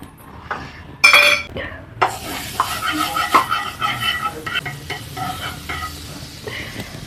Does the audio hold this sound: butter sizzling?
yes